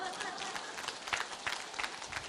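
Applause from an audience at a motivational lecture, a dense patter of clapping that sounds fairly near, with brief crowd murmur mixed in.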